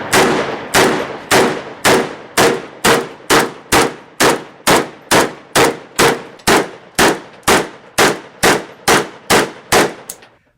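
Rapid-fire volley of about twenty sharp AR-15 pistol gunshots in steady rhythm, each crack loud and close with a short ringing decay, no talking.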